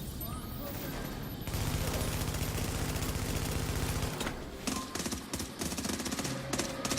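Sustained gunfire against a boss in The Division, a shooter video game, with a dense rapid automatic burst running steadily through the middle and scattered louder shots toward the end.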